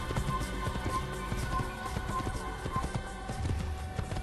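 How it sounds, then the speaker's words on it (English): Steady clip-clop of a horse's hooves while riding in Assassin's Creed, a continuous rhythmic trotting under a dense game soundscape of music and ambience, with no talk. "I'm on my horse."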